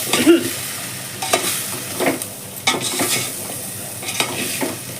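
A spoon stirs drumstick dal with chilli powder in a cooking pot, giving repeated scraping strokes at an irregular rhythm over a faint sizzle, close and moderately loud with no talking.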